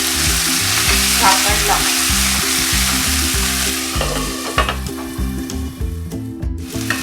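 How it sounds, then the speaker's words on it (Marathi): Onion and tomato sauté in a pan for dhaba-style dal methi, a loud steady sizzle with stirring scrapes throughout; a few words are spoken briefly near the end. "आता हा टमाटा पण मी टाकते आणि 5 मिनिटं आपण परतूया।"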